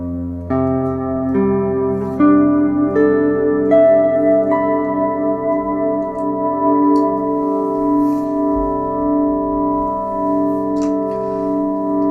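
A sustained, layered guitar chord in F Lydian with a deep bass tone underneath, ringing steadily as a few upper notes are added one after another.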